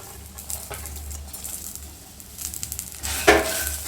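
Onion and garlic sizzle steadily in a hot pan, a constant crackling hiss with occasional stirring clatters and a brief metallic scrape near the end.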